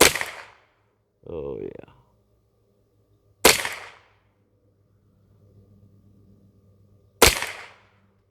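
Rifle fire from a shooting rest: three loud, close reports spaced a few seconds apart, each dying away with a short echo, with a brief spoken exclamation between the first two.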